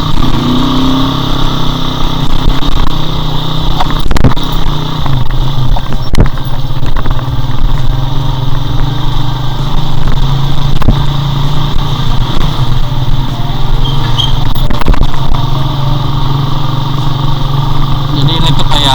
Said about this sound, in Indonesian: motor gua kayak ngap gitu guys